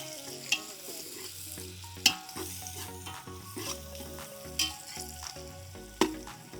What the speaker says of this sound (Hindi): चूल्हे में बन रही प्याज अभी इसमें भून रही है अच्छे से।